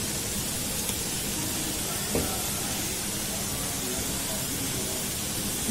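Chicken masala for a fennel chicken pasanda roasting in a pan gives a steady, soft, even sizzle and hiss throughout, with a faint clink near the middle.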